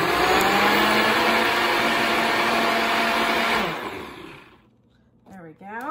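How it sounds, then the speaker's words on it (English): A blender crushes ice for a coffee shake, roaring loud and steady for several seconds before winding down and cutting out, then a short whirring burst at the end. "then I blend it for another 10 to make sure I crush up all the ice"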